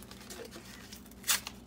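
Packet of Moroccan jelly flan mix torn open by hand, a single short crisp rip near the end, close and fairly loud, over a quiet room hum.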